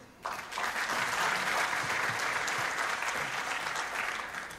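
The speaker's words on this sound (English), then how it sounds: "And thank you, Doris, for starting that applause of Jeff" An audience at a political speech applauds steadily, a dense, sustained wash of clapping that holds for several seconds at full strength before easing slightly at the end, with no voices standing out.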